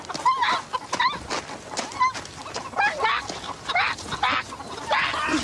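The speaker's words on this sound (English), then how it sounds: "How did the chickens get out?" Loose chickens cluck and squawk close by in a busy, overlapping chorus with occasional wing flaps, and voices speak briefly among them.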